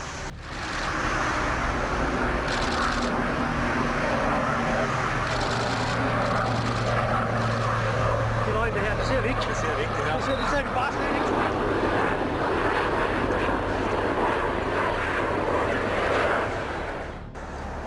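An airliner whose right main landing gear failed, circling to burn off fuel, gives a steady loud drone of jet engines throughout, with a voice talking over the engine noise.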